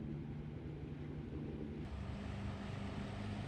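Steady propeller drone of an E-2C Hawkeye early-warning aircraft in the ARMA 3 game, a continuous low engine hum with a slight shift in tone partway through.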